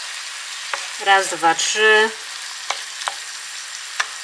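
Chanterelle mushrooms fry in a pan with a steady low sizzle, broken by a few sharp clicks as they are stirred. A voice counts briefly over the cooking sound.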